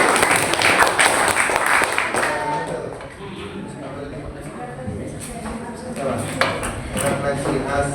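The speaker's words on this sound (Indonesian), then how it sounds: "Beri tepuk tangan." A class audience at an Indonesian teacher-training lesson on faith in divine decree gives a burst of clapping that tapers off, mixed with voices and chatter.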